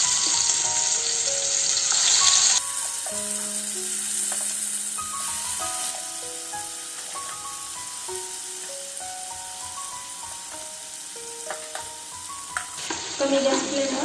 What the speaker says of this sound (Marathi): आता तेलामध्ये मासे फ्राय करून घेऊ।